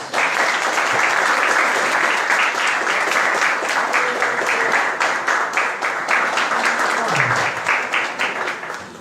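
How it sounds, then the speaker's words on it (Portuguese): A congregation at a church service claps in loud, sustained applause for about nine seconds, a dense, even patter of many hands that thins slightly toward the end. "Vamos dar uma salva de palmas para Jesus."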